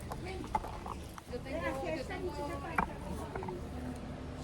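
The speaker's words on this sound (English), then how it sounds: "Beautiful horses here." Horses' hooves clip-clop at a waterfall outing in Colombia, a few scattered knocks fairly near, mostly under people chatting and talking throughout.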